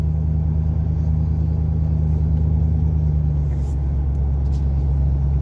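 A car exhaust fitted with an 8-inch glasspack muffler drones with a deep, steady low rumble while cruising at about 35 mph, heard continuously from inside the car with a slight shift in tone partway through.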